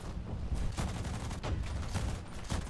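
In War Thunder, a Swedish Rank IV aircraft fires its 20 mm cannon: dense, rapid, booming bursts that run almost without a break, loud and close.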